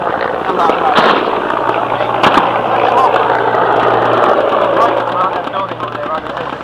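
Rifle fire from Marines in Iraq rings out as sharp cracks over a constant loud din of noise and commotion, with voices shouting nearby.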